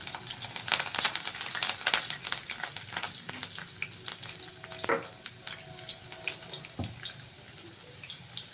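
Garlic sizzles and crackles in hot oil, a steady fizzing with scattered pops and occasional clinks of a spoon, fairly quiet and close.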